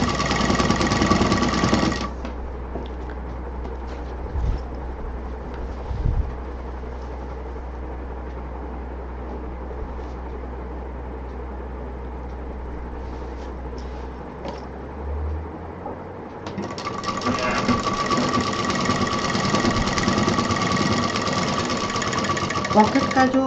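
Sewing machine stitching a pocket onto a tote bag, a fast, buzzing whir at the start and again near the end, with a quieter stretch between where a voice talks.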